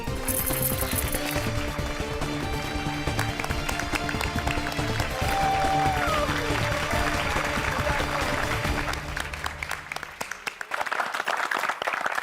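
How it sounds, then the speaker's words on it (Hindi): Residents of a housing society in a comedy series break into hearty, sustained applause, a continuous crackle of clapping with crowd murmur and music underneath, fading toward the end. "एक बार जोरदार तालियां हो जाए गोकुलधाम सोसाइटी के लोगों के लिए"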